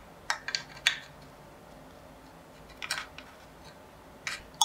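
Food is scraped over a small grater for a Maurice salad in short, scratchy bursts: a quick cluster of strokes, a pause, then two more isolated scrapes, all faint and close with no speech.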